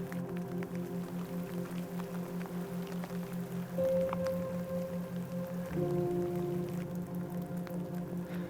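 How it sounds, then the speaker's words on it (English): Light rain falls outdoors on a backpacking trip to an alpine lake, a soft steady patter with scattered drops against a low, constant droning hum, with no talking. "It's not raining super hard."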